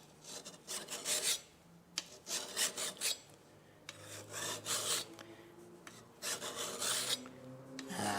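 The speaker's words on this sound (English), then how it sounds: "All we're going to use is the mill file." Mill file rasping along the edge of a cabinet card scraper, steel on steel, in repeated forward strokes with brief pauses between bursts, close and fairly loud, with no talking.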